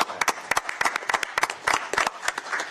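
A short burst of hand clapping from a small group at a county commissioners' meeting, sharp uneven claps close by with no talking over them.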